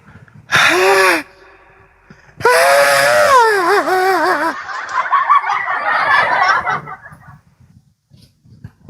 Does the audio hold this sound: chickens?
yes